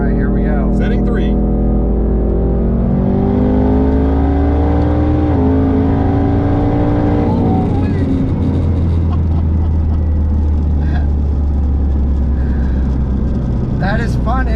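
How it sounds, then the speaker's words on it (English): A Mustang GT or C8 Corvette accelerating hard through the gears in a sixth gear pull, a loud engine roar rising steadily in pitch with a shift partway through, while people talk over it inside the car. "Was that a 6th gear pull?"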